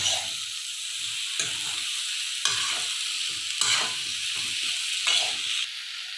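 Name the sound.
drumstick (sojina) frying with spices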